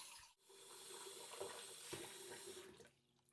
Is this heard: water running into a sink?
yes